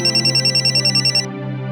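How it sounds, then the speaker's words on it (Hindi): A phone ringtone rings in a Hindi crime drama, with rapid, evenly pulsing electronic tones that are loud and close and cut off after about a second, leaving a steady hum. "फोन बज रहा है, फोन उठा लो, वरना मैं रिंगटोन पे नाचने लगेगी।"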